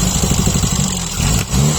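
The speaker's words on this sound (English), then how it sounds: "It may not be quite happy when I rev it" A 998 A-series engine with the choke off revs briefly, a loud, close, throbbing mechanical rumble that pulses unevenly, dips for a moment and then picks up again.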